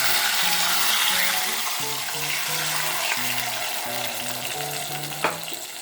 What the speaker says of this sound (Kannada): ಹಾಕಿಬಿಟ್ಟು ಇದು ಕಾಯ್ದಿದ್ದ ಇದಕ್ಕೆ ಸಾಸಿವೆ, ಜೀರಿಗೆ ಮತ್ತು ಕರಿಬೇವು ಹಾಕ್ತಾಯಿದ್ದೀನಿ.